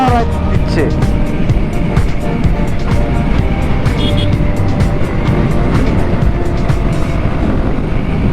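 A Suzuki Gixxer motorcycle ridden hard, its engine a steady, loud drone that runs the whole time and is mixed with wind and road noise. Voices talk over it throughout.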